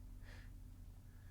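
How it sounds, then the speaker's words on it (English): A single heavy breath or gasp picked up close on a microphone, brief and faint over a steady low hum. "Who's heavy breathing?"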